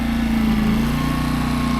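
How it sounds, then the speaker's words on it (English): A generator drones steadily and loudly at a narrowboat mooring, a continuous low mechanical buzz that never changes in pitch or volume. "You'll hear that generator buzzing away in the background now."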